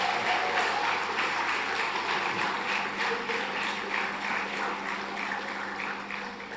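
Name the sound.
round of applause for graduating class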